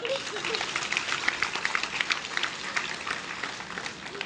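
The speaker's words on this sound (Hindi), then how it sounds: "ताली बजाने में जोर से" A crowd claps loudly and continuously at a religious gathering, dense rapid applause filling the scene, with voices shouting and talking underneath.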